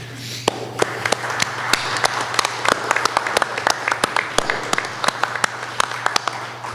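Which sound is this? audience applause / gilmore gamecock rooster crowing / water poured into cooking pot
audience applause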